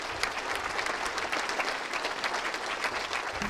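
Warm, sustained applause from a large audience at a New Year ceremony in the Paris suburbs, a thick continuous clatter of clapping hands with slight rhythmic swells and no speech.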